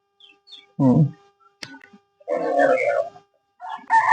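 Kadaknath and native country chickens cluck and call in short bursts with quiet gaps between, close by, including a sharp loud squawk and a rising crow-like call.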